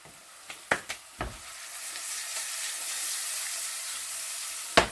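Asafoetida and spices frying in hot oil for a fodni tempering, a few sharp crackling pops at first, then a steady rising sizzle close up, ending with another loud pop.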